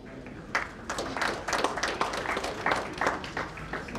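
A church congregation claps during a Sunday service, a steady run of quick, uneven handclaps from many people at moderate distance, with a faint voice underneath.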